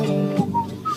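A person whistling a short, wavering tune of a few thin notes, close and fairly loud, lasting about a second.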